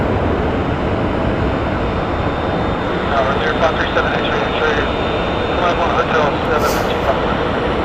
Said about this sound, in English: Next up for departure is taking the runways as Alaska Airlines 637 going to Seattle for Boeing 737-800.